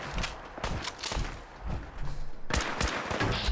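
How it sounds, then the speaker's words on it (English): Gunfire in the Fallout 4 video game comes as a string of loud, sharp shots at uneven intervals, with a dense burst near the end and no talking. "Shooting somebody."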